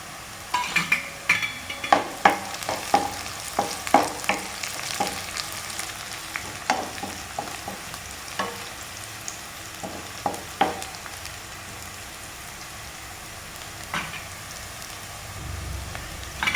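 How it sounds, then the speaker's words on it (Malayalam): Onions sauteing in a pan with red chilli, cumin and pepper for a drumstick-leaf stir-fry: a steady close sizzle broken by scattered scraping stirs and light utensil taps, with no talking. "ഉള്ളി ഒരു പകുതി മൂപ്പായി വന്നിട്ടുണ്ട്"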